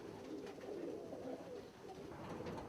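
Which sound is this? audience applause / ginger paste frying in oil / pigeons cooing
pigeons cooing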